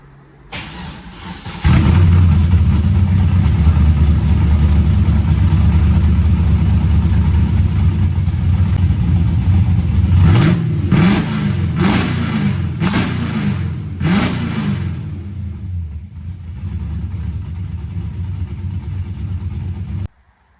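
An LS-swapped Mustang with a new exhaust starts up close and loud, settles into a deep steady idle, then gets several quick throttle blips in a row before returning to idle.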